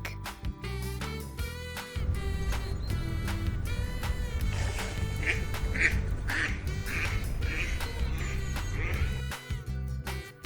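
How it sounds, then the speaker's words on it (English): A duck quacks repeatedly in a children's alphabet song, the calls bright and close over a continuous musical backing that runs throughout. "D for duck."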